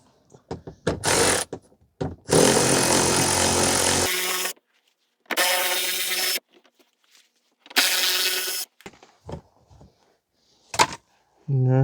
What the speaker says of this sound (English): So we are going to remove the bolts for the service cover.